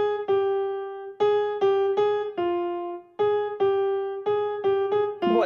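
Piano plays the main melody of a theme from Star Wars in a bluesy ragtime style, a bright phrase of short, bouncy repeated notes with a lower held note partway through, played alone.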